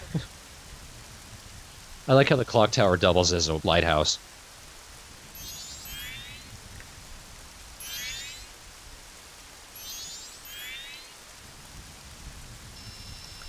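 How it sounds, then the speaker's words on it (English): Rain in a video game falls as a steady, moderate hiss throughout, joined by faint chirping bird calls, while a person talks briefly near the start. "Oh, well, it's raining."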